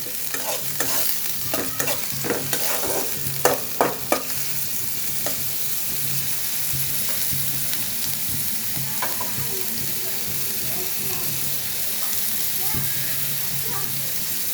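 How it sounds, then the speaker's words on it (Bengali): Sliced onions fry in plenty of oil in a wok, giving a steady close sizzle broken by a few sharp clatters of stirring early on, with no talk. "পেঁয়াজটা আমি একটু হালকা ভাজা ভাজা করে নেব"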